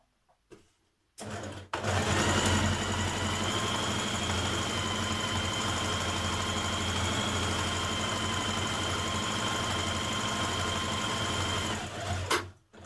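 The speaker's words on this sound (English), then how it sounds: "stitch along the 1 centimetre seam line" A sewing machine runs a long continuous stitch along a dress neckband seam, a close, even whirring hum that starts abruptly, holds steady for about ten seconds and then stops.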